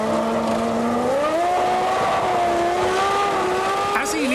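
Ferrari Formula 1 car from the 1996 season pulling out of the pits after losing its left rear drive shaft, a loud high engine whine rising in pitch as it accelerates, with a commentator talking over it.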